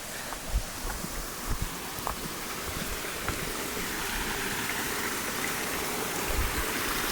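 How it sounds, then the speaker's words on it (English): Continuous rushing of a forest stream on a hike toward Baskins Creek Falls, a broad steady wash of water close by with faint footsteps and small splashes, gradually swelling slightly louder. "So we're following this stream to our left now."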